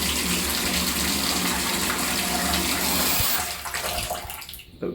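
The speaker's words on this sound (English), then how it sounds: "You fill up the water." Tap water gushes loudly into a tub being filled for a ball python's bath, a steady close rushing stream that thins and sputters as the flow is cut near the end.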